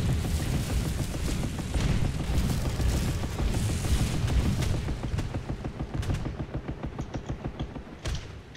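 Rapid bursts from an M19 anti-aircraft gun in a tank combat game, a dense, loud stream of booming shots that becomes more distinctly spaced and rhythmic toward the end.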